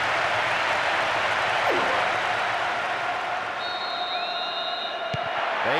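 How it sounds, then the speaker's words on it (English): Roaring stadium crowd in the PES 2009 football game on PS2, cheering after a goal, a dense continuous wall of noise with whistles and shouts rising at the end. "That strike has just brought so much excitement and cheering."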